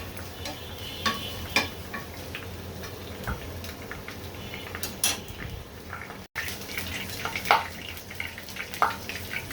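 Chilies frying lightly in oil in a kitchen, a soft background crackle broken by scattered clicks and taps of a stirring spoon against the pan, fairly quiet and close, with no speech.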